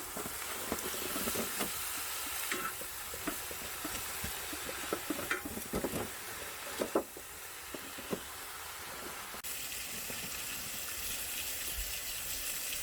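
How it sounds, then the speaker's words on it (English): Potatoes deep frying in hot oil give a steady close sizzle and hiss with scattered crackles and stirring clatter, running continuously throughout. "There's no way those potatoes are cooked all the way through. Just from deep frying the outside"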